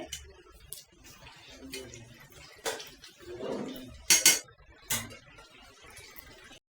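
Greens such as bottle gourd leaves stirred in a cooking pot, with a utensil scraping and clattering against the metal in irregular bursts and a soft wet rustle beneath, moderately near and fairly quiet.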